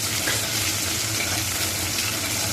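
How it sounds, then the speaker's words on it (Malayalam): Green chillies with ginger and curry leaves sauté in hot oil, giving a continuous loud, dense sizzle without pauses. "പച്ചമുളക് ഇട്ട് നല്ലവണ്ണം വഴറ്റുക"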